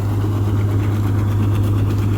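A combine harvester stands idling during a sunflower harvest, its engine giving a loud, steady low drone with a constant rumbling vibration. It runs unbroken and close, with no voices.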